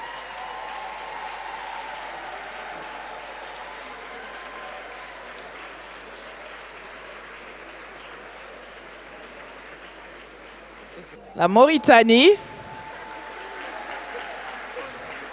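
Applause from the audience at a gala evening of the African group at UNESCO, a loud burst lasting about a second after the announcer names a country, with a continuous murmur of speech around it.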